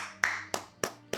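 Hands clapping four times in a slow, even rhythm, each clap sharp and close, quiet overall with a faint steady hum underneath.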